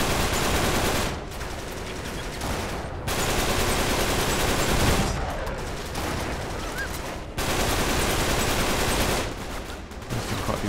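Gunfire in Uncharted 3: Drake's Deception comes in sustained rapid bursts, loud and dense, separated by a few brief lulls, with no one talking.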